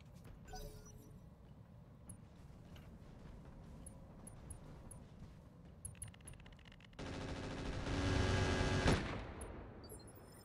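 Video game gunfire in RogueTech rattles faintly in bursts over a low mechanical rumble, then swells into a louder, denser volley near the end.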